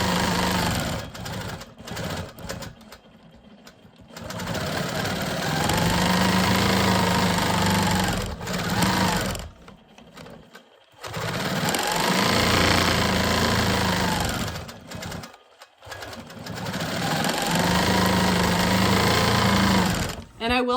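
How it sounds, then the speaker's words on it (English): QMP 20 quilting machine stitching straight lines across fabric panels for custom bags, a loud, steady mechanical whir in several long runs broken by short pauses, with a person talking at times. "let's go ahead and finish quilting these straight lines"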